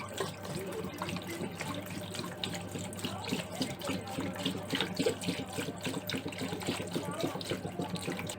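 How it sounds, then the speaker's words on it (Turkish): Liquid being poured out of a container into another vessel while stripping old paint, a steady, soft trickling and splashing that runs continuously at low level throughout. "Sıvımızı boşaltacağız."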